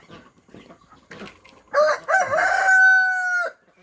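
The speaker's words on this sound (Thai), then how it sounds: "ไก่ไข่นะครับ" A rooster crows loudly nearby in one long drawn-out call, following some soft scattered clucks and rustling from a mixed flock of laying hens and ducks.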